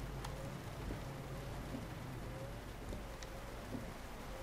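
Steady, faint rain patter in the Euro Truck Simulator 2 video game, a soft continuous hiss with no talk over it.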